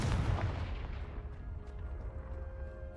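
A Confringo fire spell from the game Hogwarts Legacy goes off as a loud, booming blast with a heavy low-end burst, then rumbles and crackles steadily for the rest of the moment.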